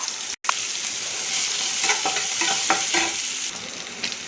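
Onions and chili fry in leftover oil that was used for frying fish, a bright steady sizzle with a sharp break near the start and a few soft stirring clicks, close and loud, with no talking.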